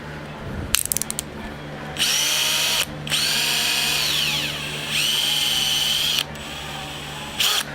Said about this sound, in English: We got our drill here.